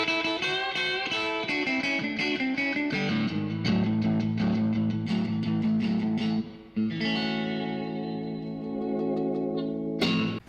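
Fender Jaguar electric guitar played through a Fender Super Reverb amp, loud and continuous chiming surf-style chords and runs with heavy reverb and effects, a brief dip near the end before a final strum.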